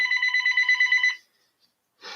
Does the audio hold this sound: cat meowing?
no